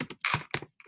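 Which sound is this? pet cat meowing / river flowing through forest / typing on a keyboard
typing on a keyboard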